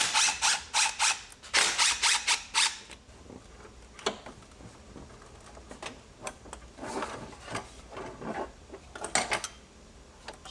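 A ratchet loosens 11 mm T-bar clamps on the intake of a Cadillac ATS-V. Bursts of rapid clicking come close up, with a heavy run at the start and scattered shorter clicks and clanks later.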